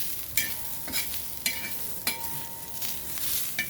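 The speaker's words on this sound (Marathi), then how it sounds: "व्यवस्थित मिक्स करून कसं हा मसाला नाही का जास्त काळा नाही होऊ द्यायचा, थोडं लालसरच होऊ द्यायचं" Masala being stirred and roasted with a little oil in a pan for a Bangda fish wātaṇ, giving a soft steady sizzle punctuated by about six sharp scraping strokes of the spoon at a regular pace, close up and without talk.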